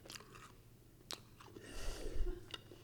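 Close, steady chewing of a piece of chicken coated in hot sauce, with soft repeated bites and wet mouth sounds over nearly three seconds, no talking.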